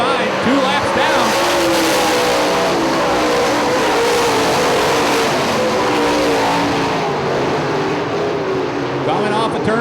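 Late model race cars in the UMP Summer Nationals at Hartford Speedway roar together in a dense, sustained engine drone with shifting revving tones, loud and continuous under a commentator's voice.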